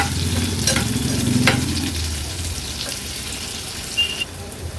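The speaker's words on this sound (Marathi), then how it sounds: "कांदा आणि लसूण तेलावर छान शिजवून घ्यायचंय" Crushed garlic and a chopped medium onion fry in hot oil, giving a continuous close sizzle that is strongest at first and eases slightly, with occasional light stirring scrapes and no voices.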